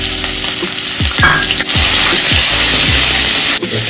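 Onion, garlic and ginger paste frying in hot oil with bay leaf and cumin, a loud steady sizzle close up, broken by scraping stirs and spatula knocks against the pan.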